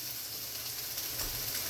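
Pâté and egg frying in a pan for breakfast, giving a steady broadband sizzle that holds at an even level throughout with no voices.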